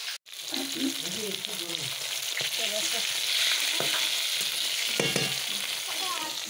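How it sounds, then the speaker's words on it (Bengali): Papad (poppadoms) frying in hot oil in a pan for a birthday meal, a steady close sizzle with light crackling and a few sharp ticks and scrapes, with no talking. "তোমাদের দাদাভাই এখন পাঁপড় ভাজছে"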